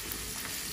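Onions going into a hot pan in a home kitchen, a dense, continuous frying sizzle filling the short moment with no voices.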